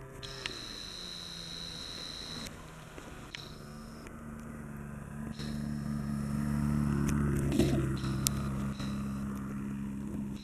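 A methanol-fuelled motorcycle engine revs at full throttle with a steady, close droning tone that swells louder through the middle of the clip before easing slightly.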